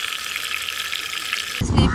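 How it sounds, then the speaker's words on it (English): Hamour fish fries in a large pan at a beach cookout, giving off a steady, close hiss of sizzling oil that ends in a louder, rougher burst of spattering. "The sizzling sound"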